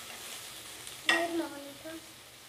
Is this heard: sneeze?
no